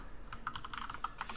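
Computer keyboard typing, a quick run of close, crisp key clicks in an irregular rhythm with no talking.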